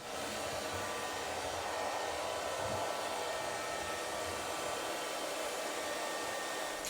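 An iLife V3s robot vacuum gives a steady, even motor whir with broadband hiss running unbroken throughout, moderately quiet, with faint low bumps underneath.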